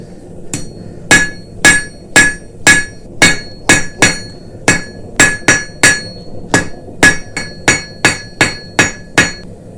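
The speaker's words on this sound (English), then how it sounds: "What we'll do is we'll put it right on the edge of the anvil and then strike it at a corner." Hammer striking steel stock on an anvil while forging a Christmas ornament, about twenty sharp ringing blows in a steady, close, loud rhythm with brief pauses between strikes.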